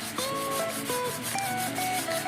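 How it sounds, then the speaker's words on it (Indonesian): A large kite frame is hand sanded with sandpaper, producing a continuous, close, loud abrasive rubbing in quick rhythmic back-and-forth strokes with no talking. "Amplas manualnya itu dia cepat, dia biasanya digesek sedikit aja udah makan banget dia."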